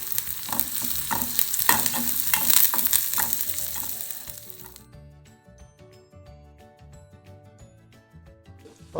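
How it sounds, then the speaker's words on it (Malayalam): Curry leaves hit hot oil for a breadfruit and duck egg curry, giving a loud crackling sizzle over the first half that then drops to a quieter simmer with light stirring. "ഇങ്ങനെ ചൂടായി വരുമ്പോൾ നമുക്ക് കുറച്ച് കറിവേപ്പില ഇങ്ങനെ നന്നായി ഒന്ന് ഫ്രൈ ആവും"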